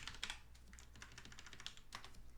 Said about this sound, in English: I just type that up here into the box.